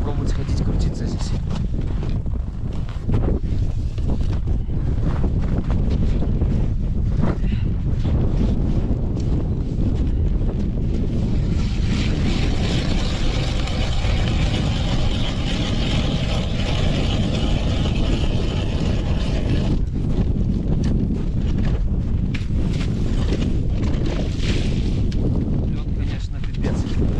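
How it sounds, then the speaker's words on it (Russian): A strong, steady wind roars across an open frozen lake during winter ice fishing in a snowstorm, buffeting the microphone without letup for the whole stretch. "И ветер здоровющий."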